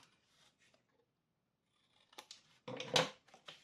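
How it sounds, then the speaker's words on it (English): Scissors snip the corners of a paper card, with a couple of faint early cuts followed by a cluster of louder, crisp snips and slicing sounds close by near the end. "I'm just going to cut the corners of this here,"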